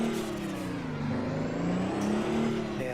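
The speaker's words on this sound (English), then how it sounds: "I can't drive this truck with this sound. It's just embarrassing." A truck engine in American Truck Simulator held at full throttle, a steady droning rev with a slowly wavering pitch, continuous and fairly loud.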